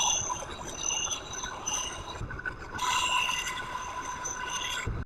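A new Harbor Freight axe being sharpened on 60-grit abrasive, giving a steady, continuous grinding scrape with a high-pitched whine that rises in intensity midway and runs without a break.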